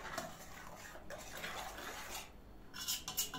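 A cream mixture is stirred continuously in a pot as it comes to the boil, a spoon scraping and knocking against the metal pot with small clinks, quiet and close, without speech.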